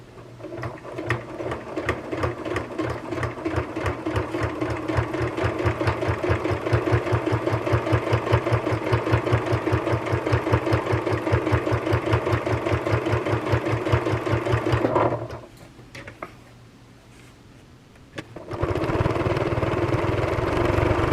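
A sewing machine fitted with a walking foot stitches a small quilted hot plate in a steady, rapid, loud run, stops briefly, then starts again at the same pace.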